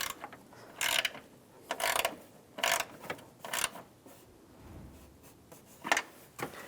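A ratchet snugs down the nut on an antenna base of a 2007-2013 Chevrolet Silverado, giving about six short bursts of quick metallic clicking with brief pauses between them, close and clear with no talking.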